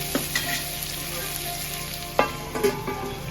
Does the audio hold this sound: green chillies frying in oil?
yes